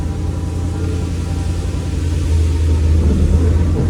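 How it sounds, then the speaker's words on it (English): An old motor that had sat unused for a quarter of a century runs in first gear with the tires turning, a steady low rumbling drone close by that grows slightly louder and rougher toward the end. "Okay, you can hear the tires rotating. That's first gear."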